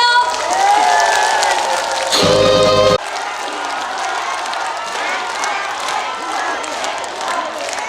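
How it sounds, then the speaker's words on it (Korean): Festival crowd at an outdoor stage performance gives sustained, loud applause mixed with cheering and shouts, with music playing through the first few seconds before the clapping carries on alone. "박수 많이 쳐주세요!"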